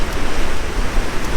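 Ocean surf breaks where the Rio Grande meets the sea at Boca Chica, a steady broadband wash of waves and wind, close and fairly loud, with no voices.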